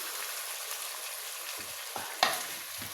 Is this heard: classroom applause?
no